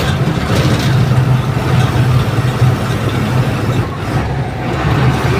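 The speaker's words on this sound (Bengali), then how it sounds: "গিয়ার চেঞ্জ করে নিলাম" A vehicle engine drones loudly and steadily while climbing a hill road, its tone dipping briefly partway through as gears are changed before the hum picks up again, with no talking.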